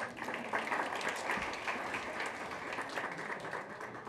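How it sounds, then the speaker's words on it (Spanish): A small audience at a medical demonstration claps for a volunteer, with steady, fairly quiet overlapping applause over a low room rumble and no talking. "Un aplauso para Mercedes"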